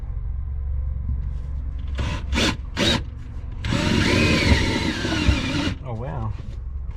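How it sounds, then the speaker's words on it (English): A step drill bit bores through metal in an engine bay for battery relocation, with a few short bursts first and then a sustained loud, grinding whir at close range, and a voice speaking before and after. "First time using a stepper drill bit."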